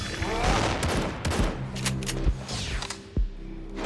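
Gunfire in a battle royale video game, with bursts of shots and sharp cracks crowding the first half, then a few louder single reports near the end, all under steady game ambience with faint voices mixed in.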